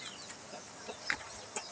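Several short, faint clucks from backyard chickens, spaced out over quiet ambient noise, with no one talking.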